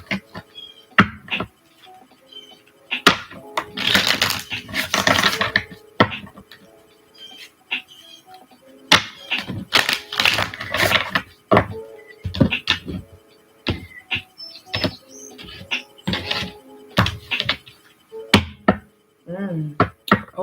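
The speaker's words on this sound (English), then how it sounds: "3 more shuffles for the collective." Tarot cards being shuffled by hand in several bursts of crisp riffling and slapping, separated by quiet pauses, close and moderately loud with no talking.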